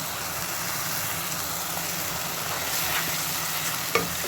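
Chopped onions sauté in hot oil in a pan, a steady hiss of frying with soft stirring underneath and a brief utensil clack near the end.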